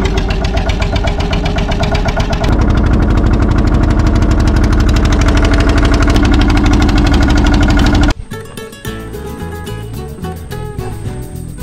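A loud, steady motor chugs close by on a ferry boat at Bagerdanga ghat, a dense rhythmic drone that drops abruptly near the end to a quieter, rougher running sound.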